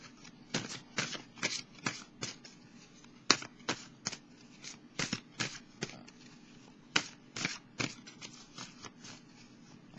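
Tarot cards being shuffled and drawn close up, with quick papery riffles and sharp snaps coming in irregular bursts, quiet and alone with no talking.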